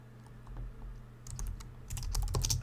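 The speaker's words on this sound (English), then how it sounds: "I'm going to type S out and hit the tab key" Keystrokes on a computer keyboard while Java code is typed: scattered light taps at first, then dense clusters of close, crisp clicks over a low steady hum.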